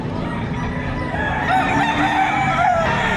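A rooster, one of the chickens up for sale at a market in Batangas, crows loudly and close by in a single drawn-out call over steady background murmur.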